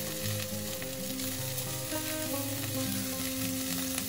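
Capsicum and chili frying in a pan with ginger, a steady close crackling sizzle throughout with occasional stirring scrapes.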